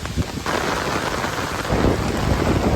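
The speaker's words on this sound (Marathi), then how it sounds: "आता पाऊस येतोय खूप जोरात." Heavy evening rain pours down steadily in a loud, dense wash with low rumbling beneath, swelling slightly louder toward the end with no voices.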